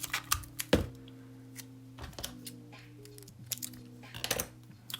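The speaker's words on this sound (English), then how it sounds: "So let's put some tape on there." Tape pulled and pressed onto a paper craft, heard as soft scattered crackles, ticks and short rips, close and fairly quiet against a faint steady hum.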